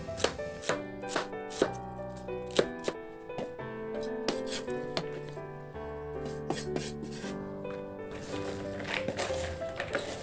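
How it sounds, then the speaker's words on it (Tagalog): A knife thinly slices cabbage on a cutting board for empanada filling, a steady run of crisp chopping taps under background music, with no talking. "Hiwain ko na rin yung cabbage o repolyo, ganun din, maninipis lang din."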